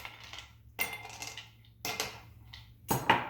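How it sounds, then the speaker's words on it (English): Ice cubes dropped into a glass for a pomegranate cocktail, several separate clinking clatters spaced across a few seconds, close and fairly quiet, with no voices. "Ice in the glass."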